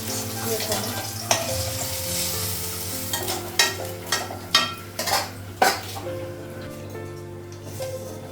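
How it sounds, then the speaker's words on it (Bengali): Fish sizzles steadily in a pan of hot oil while a spatula scrapes and clinks against the metal in a few sharp knocks, with a low hum underneath and faint speech. "ভাজা হয়ে গেছে মাছটা"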